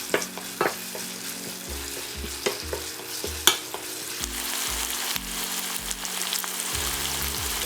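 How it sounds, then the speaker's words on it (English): A ginger paste mixture with sugar and soy sauce fries in a pan, sizzling loudly while a spatula stirs and scrapes it in repeated knocks and bursts. "You just want to mix it up and fry until there's no more liquid."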